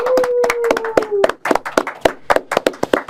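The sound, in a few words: applause, studio audience clapping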